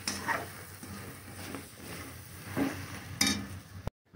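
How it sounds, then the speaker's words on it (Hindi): Veg chilli with chilli sauce and tomato sauce being stir-fried in a pan: a soft steady sizzle with a few scraping clinks from the spoon, fairly quiet, then stopping abruptly near the end. "बस 2 मिनट तक इसको और अच्छी तरह से भूज रहे हैं"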